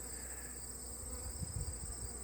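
Honey bees drone softly in a weak hive with little brood, a faint steady insect hum holding throughout with a few low bumps near the end.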